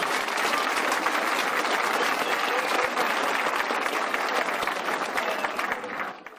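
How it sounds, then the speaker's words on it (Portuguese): An audience breaks into loud, sustained applause after a poetry reading at a literature and resistance gathering, a full, dense clapping that holds steady and then tapers off at the end. "Uma salva de palmas."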